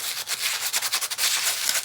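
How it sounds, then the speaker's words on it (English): Sandpaper rubbing across a small plastic cap in quick back-and-forth strokes, a close, dry scratching that pulses rhythmically for a couple of seconds. "you're going to give it a little sanding."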